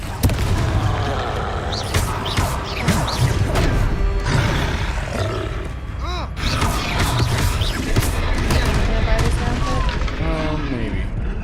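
Fire-spell blasts and booms from the Confringo charm in the Hogwarts Legacy video game crackle continuously and loudly amid dense combat effects and music-like swirls, with a voice occasionally audible underneath.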